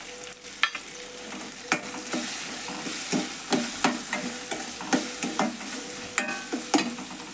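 Tomatoes frying in oil with a pinch of garam masala, stirred by spoon in a pan: a steady close sizzle broken by repeated scraping strokes and clicks, with no talking.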